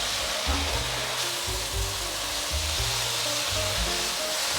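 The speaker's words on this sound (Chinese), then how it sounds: "炒素肉片的过程中，要注意不要切断素肉片了，从锅边铲下去，再往前推。" Vegan meat slices and green and red peppers stir-fry in a wok, giving a steady loud sizzle with repeated scraping pushes of the spatula in a regular rhythm.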